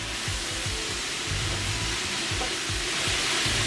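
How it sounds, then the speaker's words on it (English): A meat pie filling is stirred in a hot pan, with a steady sizzling hiss and soft scraping scrapes of the spoon repeating under the noise, close and moderately quiet. "I'm just going to give this a stir."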